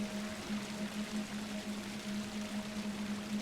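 A constant wash of rushing water comes from a waterfall in the game Grimrock 2, even and unbroken, with a faint low hum running underneath.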